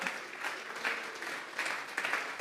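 A church congregation claps in unison as an offering of praise, a fairly faint, rhythmic patter of many hands heard from across a worship hall.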